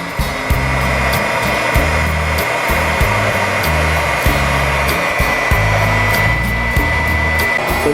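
A small electric water pump for an off-grid cabin water supply runs steadily, powered by a Jackery portable power station, giving a continuous hum with a rhythmic low pulsing throughout.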